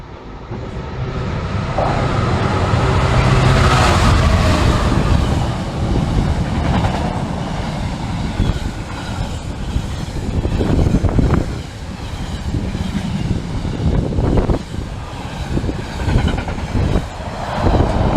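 A Class 66 diesel hauling a container freight train from Felixstowe rolls through Stowmarket station, with a loud sustained rumble, engine roar and rhythmic clattering of wagons over the rails, close and continuous throughout.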